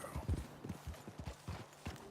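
Horse hooves clip-clop in an irregular walking rhythm on hard ground in Red Dead Redemption 2, a series of soft close thuds with no talk over them.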